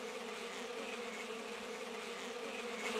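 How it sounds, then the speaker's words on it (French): Steady, continuous insect buzzing from a swarm of bees in the Madagascar animated video game, filling the whole stretch at an even level with no talk over it. "Mes abeilles sont un peu espiègles avec les étrangers."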